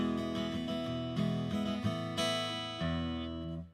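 Guitar amp tone captured with a full microphone IR, heard as a steady run of picked notes and chords that rings out and fades at the end.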